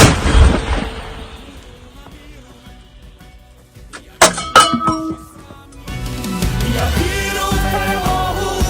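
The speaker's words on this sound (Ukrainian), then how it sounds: "Слава Україні! Постріл!" A single heavy artillery gun blast opens, booming and fading slowly, followed by sharp metallic clanks and a steady outdoor hum.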